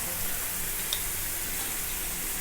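Onions and tomatoes sautéing in a pan with salt and turmeric, a continuous soft hiss of frying, even and close with no distinct stirring strokes or voices.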